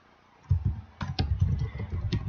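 Someone types quickly on a computer keyboard while setting up a Google Ads keyword search, producing close, brisk clusters of key clicks that carry through the clip with no talking.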